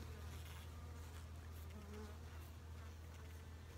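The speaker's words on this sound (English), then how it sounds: "Nice box of bees." Dense, continuous buzzing of many honeybees in a hive box, a low steady hum that stays close and even throughout with no voices.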